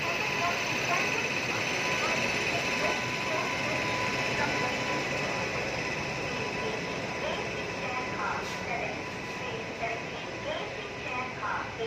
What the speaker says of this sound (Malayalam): ന്യൂഡൽഹി എക്സ്പ്രസ് ആണത്. തിരുവനന്തപുരം സെൻട്രലിൽ നിന്ന് വരുന്നതാണ്.